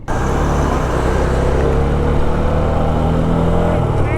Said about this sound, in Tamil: பின்னால் ஏகப்பட்ட வண்டி வருதே